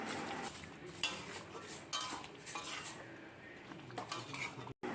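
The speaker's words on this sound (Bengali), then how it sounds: "এই চিকেনটা এবার আমি কষাতে থাকবো, এইভাবেই রান্নাটা হয়ে যাবে।" Chicken being slow-fried for biryani is stirred in a pot, a spoon scraping and clinking against the metal in soft, uneven strokes at low volume.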